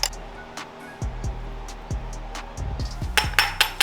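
A wrench working nylock nuts on a Porsche 996 suspension arm: scattered metallic clinks and knocks in an irregular rhythm, close and fairly faint, with a brighter cluster of taps near the end.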